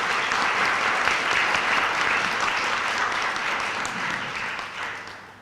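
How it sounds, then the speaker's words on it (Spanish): Audience applause at an award nomination ceremony in a hotel: sustained, dense clapping from a large crowd, loud and even, easing slightly toward the end with no talk over it. "Un aplauso"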